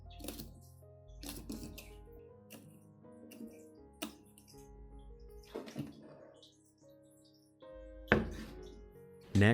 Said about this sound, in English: chop it into small pieces